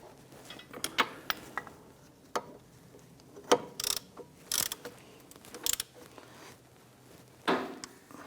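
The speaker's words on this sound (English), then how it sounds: "go ahead and grab our ratchet and snug those down" Ratchet snugging down caliper bracket bolts on a Jeep Grand Cherokee during front wheel bearing and hub work, heard as scattered short clicking bursts and sharp metallic ticks with pauses between, close by and fairly quiet.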